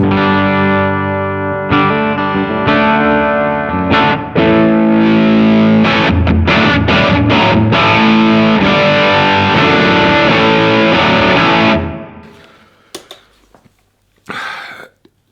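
An electric guitar through a Tallon Electric Dual Drive overdrive pedal plays loud, gritty chords and fast strummed passages for about twelve seconds, then fades, leaving a few faint scrapes and a cough-like noise.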